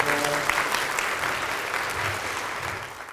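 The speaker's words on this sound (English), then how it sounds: "Give everybody a round of applause" Audience at a cancer early-detection health seminar breaks into steady, dense applause, moderately loud and fairly close, fading out at the end with a faint voice underneath.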